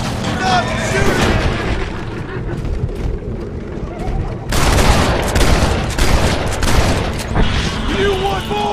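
Gunfire shootout in the western video game Red Dead Redemption: dense rapid volleys of shots and booms, loud and continuous with a sharper burst midway, under shouted game voices.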